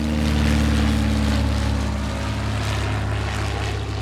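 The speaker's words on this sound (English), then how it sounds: "A dozen planes firing up, taking to the skies above Port Lincoln." A dozen small propeller planes fire up and take off together above Port Lincoln, giving a steady, loud, blended engine drone with a deep low hum and broad airy roar that holds throughout.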